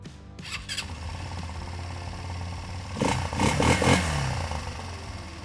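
A cheap 200cc single-cylinder four-stroke ATV engine idles with a steady, fairly quiet rumble, then the throttle is blipped and it revs louder in a few surges before settling.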